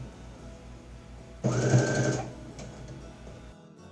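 A sewing machine stitches sleeve panels with a long, loose basting stitch, a close steady whirring run of about half a second in the middle, with quiet room noise before and after.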